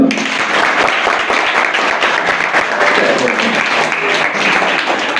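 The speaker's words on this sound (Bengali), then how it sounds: "স্যারের জন্য একটু হাততালি হোক" An audience claps steadily at a magic show, a dense run of hand claps lasting several seconds at a near, even loudness with a few faint voices beneath.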